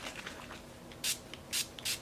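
A makeup spray is spritzed onto a concealer brush, giving three short, quiet hissing bursts in quick succession against a faint background.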